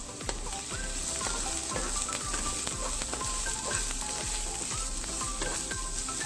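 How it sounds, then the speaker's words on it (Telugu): Carrots, peas, capsicum, beans and corn stir-fried for Indo-Chinese vegetable fried rice, a steady close sizzle with rhythmic tossing and scraping of a spatula against the pan throughout. "జస్ట్ ఒక 5 మినిట్స్ ఇలా టాస్ చేస్తే సరిపోతుంది."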